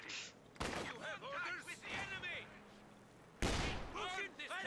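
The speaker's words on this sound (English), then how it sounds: "there we got lines of gunfire there from Frost." Bursts of rapid gunfire crackle in a Company of Heroes 2 battle, loud sharp volleys near the start and again later, with someone talking over much of it.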